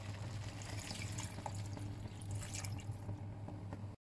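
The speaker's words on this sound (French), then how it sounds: "Et maintenant, je vais couvrir à hauteur d'eau." Water is poured into a pot of veal blanquette with cornstarch in it, making a steady close splashing and trickling that runs continuously before stopping abruptly.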